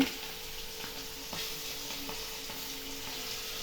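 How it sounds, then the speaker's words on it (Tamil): Banana flower finger chips frying in hot oil give a steady, fairly quiet sizzle and bubbling hiss, with a few faint ticks from stirring, and no voices. "இங்கே பாருங்கள், அடுத்த செட் போட்டாச்சு. ஒரு செட்டு பொரிச்சு எடுத்தாச்சு, வெந்துருச்சு."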